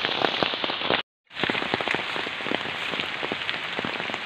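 Steady rain pattering on surfaces outdoors during a tilapia harvest on a farm, a dense continuous hiss broken by a brief gap of silence before resuming.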